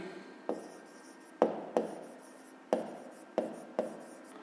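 A pen scratches across paper in a quiet room, close and soft, with steady rubbing strokes punctuated by several sharper taps as the tip lifts and lands, during a fifth-grade math exercise.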